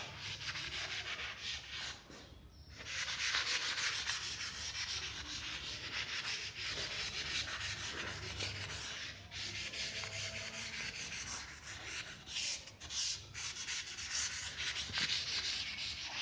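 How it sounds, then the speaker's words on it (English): Writing being rubbed off a board after a determinants maths problem, a continuous scratchy rubbing sound with steady back-and-forth strokes, close and fairly loud, with no voice. "Let's rub it now."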